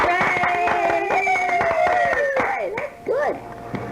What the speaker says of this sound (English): each face lit up with a friendly smile as the Toads gave Davy a round of regular applause